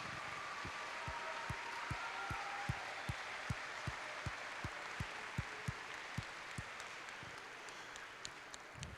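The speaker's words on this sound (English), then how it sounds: "A big round of applause, please." Scattered audience applause for campus volunteers at a school spring concert, soft and distant, with a steady sharp clap or tap repeating at a regular pulse through the wash of clapping.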